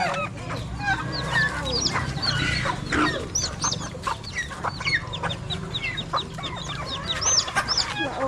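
Backyard chickens on a farm in Batangas cluck and squawk close by in a busy, overlapping chorus, with sharp calls scattered throughout.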